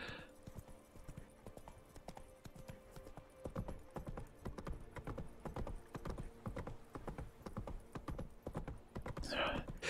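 Horse hooves clip-clop at a steady trotting rhythm throughout, a continuous run of close, even hoofbeats from a horse in The Witcher 3: Blood & Wine, with brief louder bursts near the start and end.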